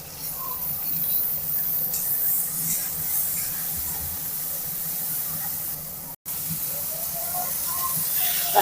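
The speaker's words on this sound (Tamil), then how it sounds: "தக்காளி வெங்காயம் பூண்டு எல்லாம் நல்லா வதங்கிருச்சு" Shallots, crushed garlic, tomato and curry leaves sizzle steadily in a pan for a village-style pumpkin kootu, a continuous close hiss with a brief break partway through.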